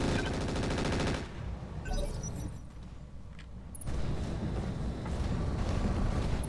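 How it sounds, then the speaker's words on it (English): Mech machine guns firing in the Roguetech BattleTech game, a sustained rattling burst of rapid shots over a rumbling battle backdrop, with heavy impacts and explosions mixed in. "just fire our machine guns on this guy"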